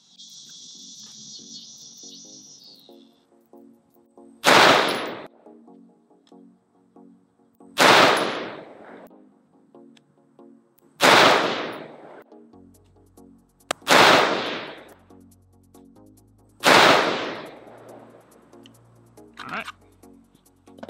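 An AR-15 rifle with a Faxon Dissipator-style barrel fires five loud, well-spaced single shots outdoors, each a sharp crack with a decaying tail, with insects chirping steadily in the background between shots.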